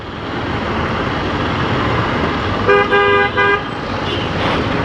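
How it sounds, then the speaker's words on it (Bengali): Amid steady traffic rumble on a road in Bangladesh, a car horn honks in short repeated bursts, fairly close and loud over the background din. "হর্ন বাজানো নিষেধ।"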